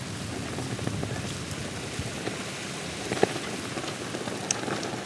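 Heavy rain pours in a steady, dense hiss with occasional sharper drop impacts, continuous throughout and with no talking.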